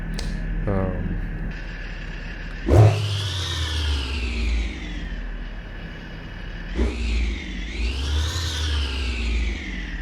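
A truck engine in American Truck Simulator revs and shifts, with several rising and falling whines and engine pitch sweeps, loud and close. Brief bursts of noise mark gear changes.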